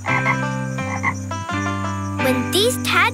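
Frogs croak in a children's animated learning show, a run of loud, resonant croaks with steady tones, ending in a few rising chirpy calls; no talking.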